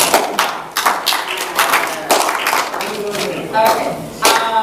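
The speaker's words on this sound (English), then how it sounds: "listen to that painful spattering of applause" A small audience at a Rotary Club meeting gives sparse, scattered applause, a handful of separate claps and taps coming in uneven bursts, fairly close, with a voice faintly heard amid them.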